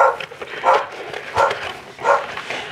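A dog in its kennel barks in three short, evenly spaced bursts at moderate distance, with no talking over it.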